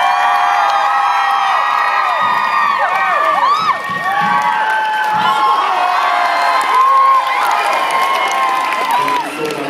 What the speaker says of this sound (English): A big applause for Jay, please.